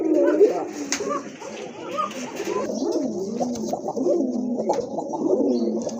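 Rajgolla pigeons coo steadily nearby, with soft overlapping calls throughout and a person talking over them.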